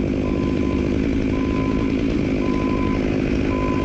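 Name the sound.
chainsaw cutting a tree near a fence in the wind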